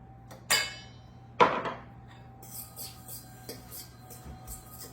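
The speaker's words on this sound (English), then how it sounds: "I'm gonna break this up with a fork a little bit, just get everything nice and incorporated." A fork scrapes and taps against a bowl while breaking up a macadamia crust mixture, two sharp clinks followed by softer, scattered scraping.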